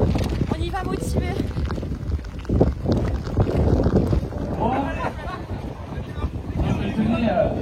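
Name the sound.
wind blowing before a trail race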